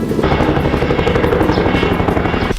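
A small quadcopter drone flies close by, with a loud, steady, high-pitched rotor buzz that runs without a break the whole time.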